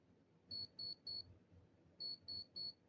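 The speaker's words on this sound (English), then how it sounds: "The alarm in my mom and dad's room is just not the one on this direction" An alarm clock goes off in the parents' room during a talk about a school phone ban, sounding two groups of three bright, evenly spaced beeps with a short gap between the groups, moderately faint over a low room hum.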